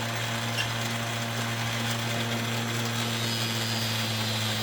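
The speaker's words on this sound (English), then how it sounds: "We're going to have to take our Dremel tool to the ends here." A Dremel rotary tool buzzes at a steady high pitch while cleaning the wheels of a Kato SD40-2 model train locomotive, one continuous close whine with no pauses or talking.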